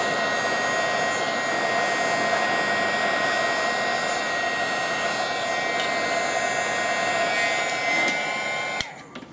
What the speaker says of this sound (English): I'm just going to grab my heat gun again. And right away it starts to melt.